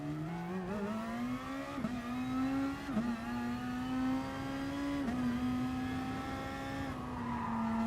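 A race car engine in the GT Sport video game during qualifying holds a steady, high, buzzing drone, dipping briefly at each gear shift, with no talk.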